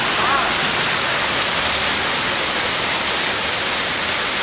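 A waterfall at a busy tourist site in Malaysia roars as a steady, loud broadband rush of falling water, close and unbroken throughout.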